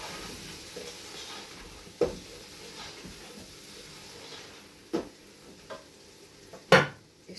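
Chopped potatoes frying in a pan for lamb shank curry, a soft steady sizzle punctuated by a few sharp clinks and scrapes of a spoon stirring against the metal, close and fairly quiet, with no talking.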